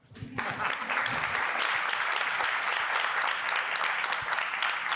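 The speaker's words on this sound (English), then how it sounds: "The clap comes now." An audience at a food systems transformation conference breaks into applause, which swells quickly and holds as a dense, steady wash of many clapping hands for several seconds.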